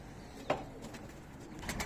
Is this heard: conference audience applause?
no